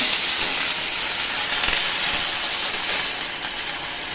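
Ginger paste hits a hot pan for a Bengali titar dal cooked with salt and no turmeric, giving a steady, loud, close sizzling hiss that runs unbroken throughout with no talking.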